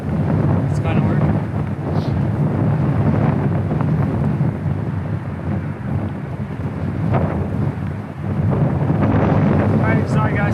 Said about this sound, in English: Bro, the wind's blowing you so hard right now